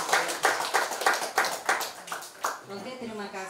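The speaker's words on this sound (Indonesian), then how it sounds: "tepuk tangan dong buat kita semua" A group at a Christmas worship service and celebration of a prayer fellowship claps in a steady, rhythmic beat for about two and a half seconds. Voices take over as the clapping stops.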